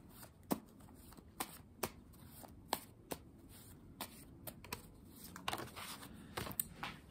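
Cards shuffled and handled for an oracle card reading, a quiet close series of crisp riffling snaps and taps at irregular intervals, with no voices.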